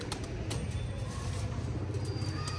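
Pigeons coo softly and repeatedly inside a loft, their low murmuring continuous beneath faint background noise.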